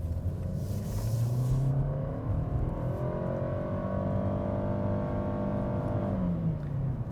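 A 2014–2015 Nissan Altima with a CVT under full throttle: the engine drones loudly and steadily, its pitch climbing and then holding at a high, constant rev as the car accelerates, with road rumble underneath and no talking.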